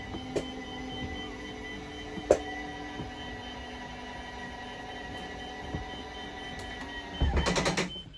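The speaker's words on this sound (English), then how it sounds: "Just press and hold out and the slide will make its way out." A faint, steady slide-out motor on a 2022 Sunseeker 3010 DS RV whirs continuously with a few light clicks as the slide extends, ending in a short burst of rattling clatter.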